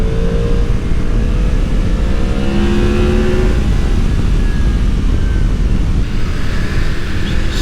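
A car engine revs hard and accelerates along a hilly, twisty country road, a loud, steady drone rising in pitch with rushing wind noise throughout and no talking.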